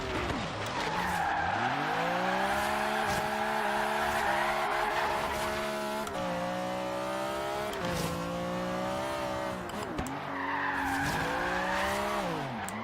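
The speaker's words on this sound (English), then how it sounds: "More handbrake. More handbrake. I handbraked 3 times to get through that." Long, loud tire squeals from a 1965 Alfa Romeo Giulia TZ2 skidding through tight corners under handbrake in Forza Horizon 3, engine droning beneath with pitch swells and several separate skids.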